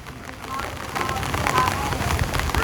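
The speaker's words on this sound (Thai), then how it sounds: "มื้อนี้ก็มากับสายฝนพี่น้อง" Rain falls steadily on surfaces outdoors at a rural home, a continuous soft hiss that grows louder partway through and stays even to the end.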